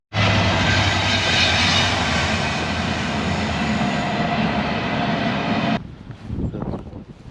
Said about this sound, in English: there was a big cargo train going past. Loads of coal in it.